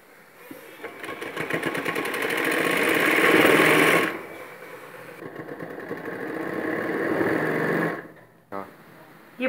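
A sewing machine stitches fabric for a newborn baby pillow, running in steady buzzing bursts that speed up and then slow, with a pause between runs and a brief stop near the end.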